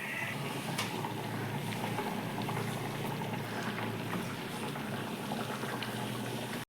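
Mutton curry simmers in a pot, a continuous close bubbling and soft liquid burbling that stays steady and quiet with no voices.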